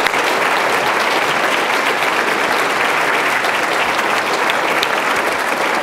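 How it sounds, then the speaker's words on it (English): Loud, sustained applause from a banquet audience after a panel discussion at a Florida chapters conference, a dense wash of many hands clapping continuously with no pause. "big round of applause"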